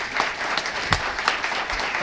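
A room full of people applauding at a Columbus Rotary Club meeting after a schools update, steady dense clapping with a few sharper claps standing out.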